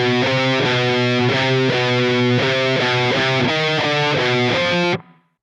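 A heavily distorted electric guitar in standard tuning plays a riff slowly, with chugging repeated chords that stop abruptly and ring out briefly into silence.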